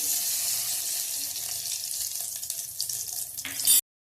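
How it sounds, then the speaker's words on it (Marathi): Cashews and almonds roasting in hot ghee in a pot, a steady close sizzling hiss with light crackle that swells briefly near the end before cutting off. "तुपात आपण काजू बदाम भाजून घ्यायचे।"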